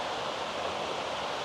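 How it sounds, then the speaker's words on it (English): A waterfall in the Taf Fechan gorge, South Wales, gives a constant hissing rush of falling water, steady and even throughout. "there's a waterfall just in the background"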